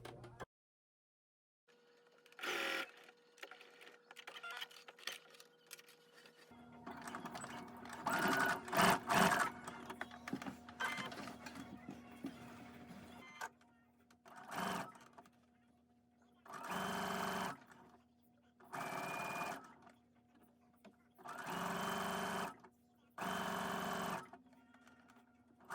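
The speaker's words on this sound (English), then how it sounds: "When you sew the armhole, make sure that you do a couple of back stitches." A sewing machine stitches a dress armhole in several separate bursts of fast, whirring, rhythmic clatter, with quiet pauses between runs.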